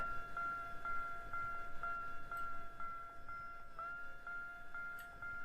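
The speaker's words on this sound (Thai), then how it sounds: "รถไฟรถไฟ ทำไงอ่ะ" A train in a horror video game rumbles closer with a steady, repeating mechanical clatter and sustained tonal hum, fairly quiet and without talking.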